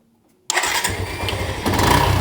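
Vehicle engine cranks and catches into a steady running idle after silence, a device having just been wired into its relay line; the engine note rises louder toward the end, close and alone without talk.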